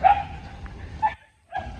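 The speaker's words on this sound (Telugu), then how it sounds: "అన్ని పిల్ల కుక్కలు చూడండి" Several puppies give a couple of short, close, high yipping barks with a brief quiet gap between them.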